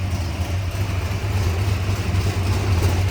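A 1970 Ford Torino Cobra SCJ engine idling with a steady, deep, close rumble, heard alone without any voices.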